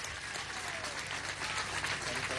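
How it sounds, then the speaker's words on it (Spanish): Crowd applause at an outdoor agricultural planting-season event in Guárico, Venezuela, continuous and even clapping from many people throughout. "No, más un aplauso a la gente de Chiriguare,"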